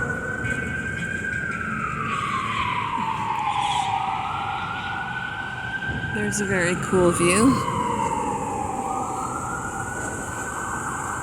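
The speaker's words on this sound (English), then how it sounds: "The sound of sirens, not the sound of silence for sure." Wailing emergency siren on a New York City street at night, a long rising and falling tone sweeping through the whole stretch over steady traffic hum, with a second warbling siren burst midway and someone speaking briefly.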